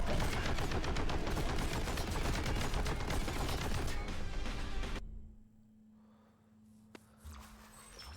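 Shotgun fire in the video game Boltgun comes as dense, loud, rapid blasts for about five seconds, then cuts to a quiet hum with one sharp click.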